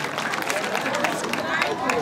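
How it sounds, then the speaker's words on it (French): A crowd at an outdoor Mother's Day gathering claps and cheers for a woman, busy continuous clapping mixed with voices and chatter, close and loud throughout. "Vraiment, applaudissez pour elle."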